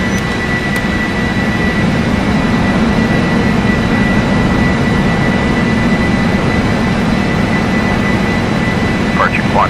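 Loud, steady roar of Boeing 747 jet engines at climb power after takeoff in the PMDG Queen of the Skies simulator, a dense continuous rumble with a faint whine, with brief chirps near the end.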